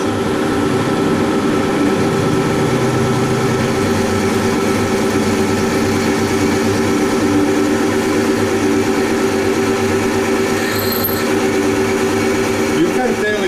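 Metal lathe on a rotating-platform Multifix toolpost build, spinning at about 1000 RPM while cutting chips: a steady, loud mechanical hum with a constant tonal whine running throughout, close to the microphone.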